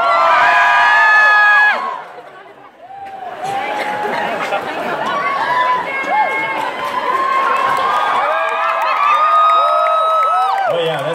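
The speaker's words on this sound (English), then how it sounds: "How many people are just screaming because that's all they want to do is scream?" A large concert audience at a show in Stockholm screams and cheers loudly and continuously, with high shrieks and whoops rising and falling through a dense crowd roar.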